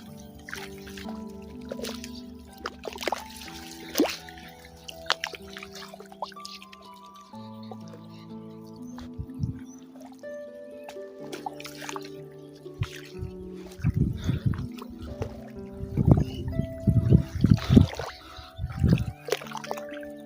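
Someone wades waist-deep through a village pond while gathering water lilies. Soft sloshing, dripping and splashing come and go, growing busier and louder toward the end.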